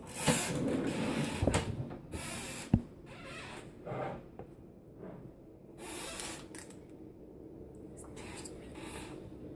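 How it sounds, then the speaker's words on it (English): A squeaky chair creaks in bursts in a kitchen during holiday baking while a pizzelle press is in use, with bumps and rustling between the creaks and people talking. "it's quite the squeaky chair you got there, Angela."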